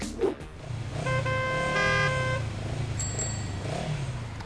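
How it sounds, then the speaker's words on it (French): City road traffic rumbles steadily nearby while a car horn honks in a long held blast, followed later by a brief higher horn toot, over continuous engine drone. "La circulation est un vrai calvaire et Lucas perd plus de 4 heures en moyenne"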